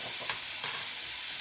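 Pickled capers spit and sizzle in hot oil in a pan, a bright, steady hiss with a couple of soft stirring swishes, close and continuous, with no talking.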